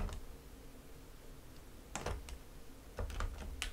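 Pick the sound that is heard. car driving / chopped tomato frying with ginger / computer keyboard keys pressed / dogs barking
computer keyboard keys pressed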